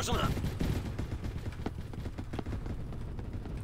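Sustained rapid gunfire from a placed gun in the Roblox game Recoil rattles on for several seconds as a dense stream of close shots, starting loudest and then continuing a little quieter.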